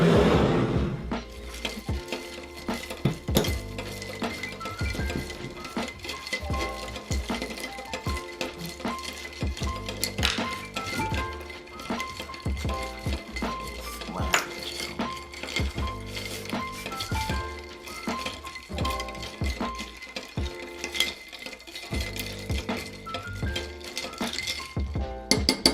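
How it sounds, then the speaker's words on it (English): A spoon stirs a dark rum cocktail in a glass, giving a long run of light, quick metallic clinks and taps close by, steady and fairly soft throughout. "we are going to give that a stir"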